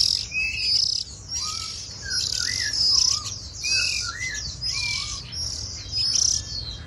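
Male white-eye songbird of the northern type chirping in repeated bright, close whistled phrases over steady insect-like background hiss, with no talking.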